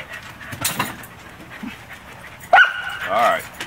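A Shetland sheepdog outdoors on a wet garden lawn gives a sharp bark and short whimpering yips, with panting between them. It is close and fairly loud.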